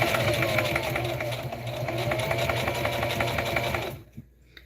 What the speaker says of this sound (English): And I'm just sewing around.